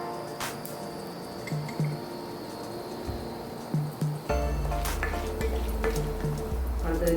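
Cashews and black pepper frying in hot oil in a pan for a tempering, a steady close sizzle that swells loudly about halfway through with light stirring clicks.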